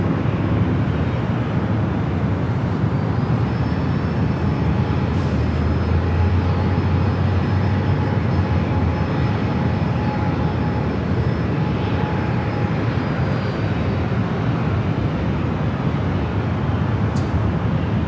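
A Southwest airliner taxis at San Diego airport, its engines giving a steady, broad jet rumble and whine that holds evenly throughout, with a faint high tone drifting above.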